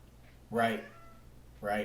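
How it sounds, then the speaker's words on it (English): A cat meows twice in the background, two short, clear calls about a second apart, while a person briefly talks. "I don't know if you guys can hear the cat in the background meowing"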